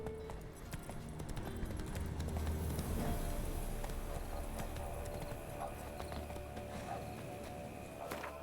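Steady clip-clop of Roach, Geralt's horse in The Witcher 3, trotting at an even rhythm, close and clear over a low ambient game background.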